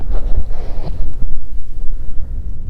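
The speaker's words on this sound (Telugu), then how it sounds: "గాలి మాత్రం ఘోరంగా వస్తుంది." Strong wind buffets the microphone on Horsley Hills, a hilltop before sunrise, roaring as continuous low rumbling gusts with no voices.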